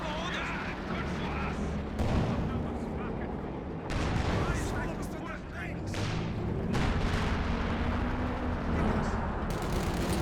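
Artillery blasts and bursts of gunfire from a Company of Heroes 2 multiplayer battle roll on steadily, with heavy booms landing every few seconds under continuous excited commentary.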